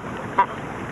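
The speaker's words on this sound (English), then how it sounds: "Kelp goose." A kelp goose on a grassless coastal shore gives a single short honking call, heard close and clear against a steady low background hiss.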